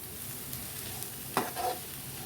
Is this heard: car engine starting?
no